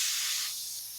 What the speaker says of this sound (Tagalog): Pasingawin lang natin siya